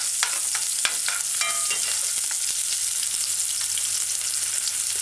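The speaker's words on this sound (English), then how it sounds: "Add your diced onions. Just kind of stir it in for a couple seconds." Diced onions sizzling in hot oil over a medium-high stove while being stirred, a steady close crackle with sharp utensil clicks and scrapes in the first couple of seconds, no voices.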